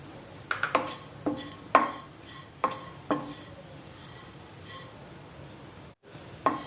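Grated coconut being dry-roasted in a pan for a Navratri fasting sweet, stirred with a utensil that clinks and scrapes against the metal in sharp, irregular knocks over a quiet background, with no talking.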